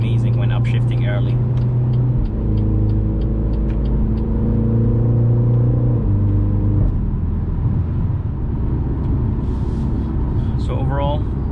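A 2022 BMW X2 M35 SUV exhaust under acceleration with early upshifts, a loud, steady engine drone from inside the cabin whose pitch steps down at each gear change, with a person talking over it near the end.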